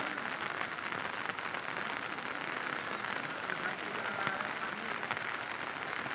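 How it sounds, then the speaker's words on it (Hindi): Heavy rain pours down during a destructive storm in Srinagar, a dense, steady hiss that holds at one level throughout with no voices. "दोस्तों इतना बारिश हो रहा है"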